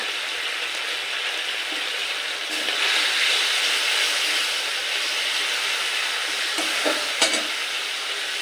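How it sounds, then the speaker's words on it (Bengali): Ground spices, turmeric and Kashmiri red chilli powder, sizzle and are stirred in a pan for a potato curry with soybean and chana dal, a steady close frying hiss with scraping of the spoon throughout. "মশলাটা খুব সুন্দরভাবে কষিয়ে গেছে"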